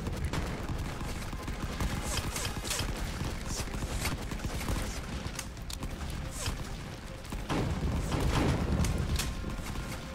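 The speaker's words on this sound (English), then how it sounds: "That artillery is crazy." Artillery and gunfire in the World War 1 video game Rising Front, a continuous din of rolling distant blasts and crackling rifle and machine-gun shots that swells louder near the end, with a voice faintly talking underneath.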